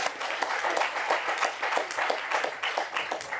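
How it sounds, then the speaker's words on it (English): An audience at a book launch claps steadily in a dense patter of many hands, moderately loud and sustained throughout without a break. "Can you guys clap for this man already,"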